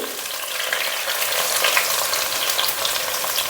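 Mustard seeds, chopped shallots, ginger and garlic frying in hot oil in a pan for a fish curry, a steady loud crackling sizzle with stirring, no voices.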